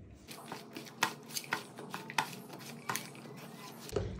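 Potato, eggplant, onion, green chilli and oil are squeezed and mixed by hand in a bowl, giving soft wet squelches and light clinks in an irregular rhythm, close and quiet with no talking.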